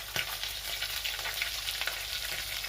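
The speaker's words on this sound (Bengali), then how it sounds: "একটু বেশি তেল দিয়ে ভাজলে মাছগুলো খুব সুন্দর ভাজা হয়" Small mourola fish fry in a generous amount of hot oil, giving a loud, steady, crackling sizzle with occasional sharper pops.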